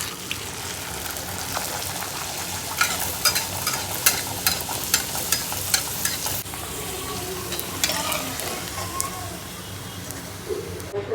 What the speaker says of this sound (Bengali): আমি একটু ভেজে নিয়ে এবারে আমাদেরটা গরম গরম ভেজে খেয়ে নেব।